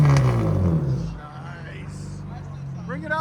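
Acura TL 3.2L V6 with an upgraded exhaust revs up loudly at the start, its deep engine and exhaust tone then settling into a steady idle rumble, with people talking over it.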